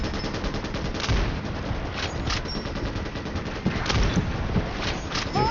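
Gunfire in the video game Starship Troopers Extermination, with a sniper rifle among the weapons, comes as a dense run of loud, rapid shots and bursts across the whole stretch.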